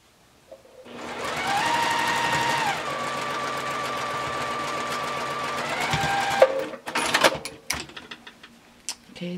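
A sewing machine stitches a quilt block, its motor running in one loud steady burst of about six seconds, then stopping, followed by the clicks and rustle of fabric being handled nearby.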